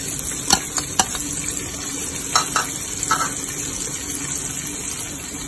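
Ground garlic-ginger paste and masala frying in a pan for butter chicken: a soft sizzle under a few sharp spoon clinks and scrapes as it is stirred.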